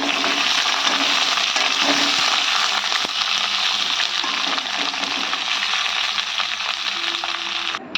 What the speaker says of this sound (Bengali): আমি পটলগুলো এবার ভাজতে দেবো আর একটু ভেজে নেব